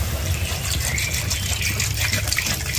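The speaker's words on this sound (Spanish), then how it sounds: "vamos a agregar el agua" Water gushes steadily into a cooking pot for chicken soup with chipilín, a continuous close-up pouring and splashing sound with no speech.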